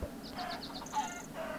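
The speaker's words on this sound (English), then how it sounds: "Oops, sorry chicken." Minecraft chickens on a modded Tekkit server cluck in a quick run of short, chirpy calls, followed by a brief pause and a few more clucks, faint and close over a low background hum.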